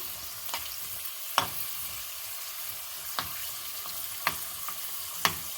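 Carrot and cashew fried rice being stirred in a pan: a steady soft sizzle with sharp spatula scrapes and clacks at irregular intervals, close by and with no talking.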